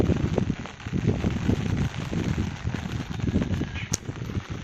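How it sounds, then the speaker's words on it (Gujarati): Steady patter of light rain falling continuously, a dense soft hiss with faint scattered drops, no voices. "વરસાદ હજી ઝરમર ઝરમર ચાલે જ છે"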